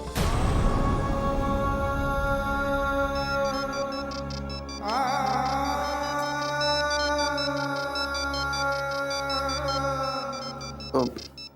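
A phone rings at home in a scene from a Marathi TV serial, as a loud sustained electronic ringtone melody that plays on alone with long held tones and a final rising sweep.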